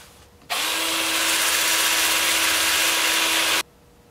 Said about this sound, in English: Then I'll take it over here to the workbench and sand this 2-inch area up.